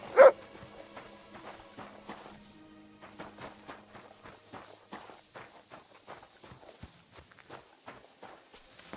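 Hooves of a very large horse clip-clop in a steady walking rhythm within a video game, light repeated thuds continuing for several seconds, with a brief louder knock at the start and quiet game ambience underneath.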